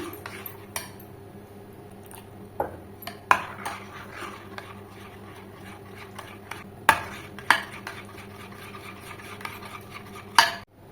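A spoon stirs and scrapes a carrot and milk mixture around a kadai over low heat for carrot barfi, with occasional sharp metallic clinks over a low steady hum.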